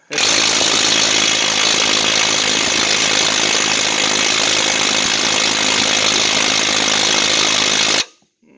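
Cheap cordless impact wrench from Amazon runs on bolts, a loud, steady high-pitched buzzing whine held for about eight seconds before cutting off abruptly.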